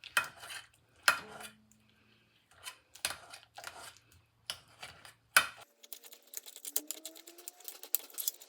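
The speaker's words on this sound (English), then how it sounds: "margarine or butter, Greek yogurt, and then mash it all together." Margarine or butter is mashed with Greek yogurt in a bowl, making irregular clinks and scrapes of a utensil against the dish, fairly close, ending in a run of faster light tapping.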